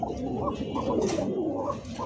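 A pair of pigeons coo together in a low, rolling series of throaty calls, close and steady, repeating throughout with no talking.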